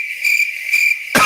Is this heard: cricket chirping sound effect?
yes